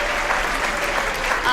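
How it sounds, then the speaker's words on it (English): Brief burst of steady audience applause for student presenters at a school writers' week event, a dense wash of clapping heard close and fairly loud. "let's give one more round of applause to our student presenters today."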